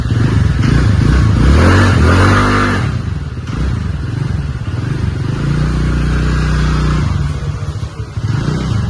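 A Honda Activa scooter engine, collected after a starter fault was fixed, starts and runs close by with a loud, steady idle and brief revving, without talk.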